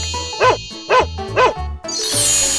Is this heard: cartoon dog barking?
yes